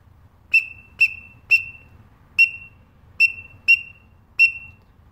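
A whistle call imitating a green-winged teal gives seven short, sharp peeps with uneven spacing, clear and alone against a quiet background.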